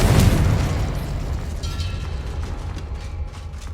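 Blasting spell explosion in the Hogwarts Legacy video game: a loud, sharp burst at the start that decays into a long rumbling, crackling tail of debris, with no voices.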